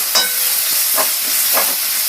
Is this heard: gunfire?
no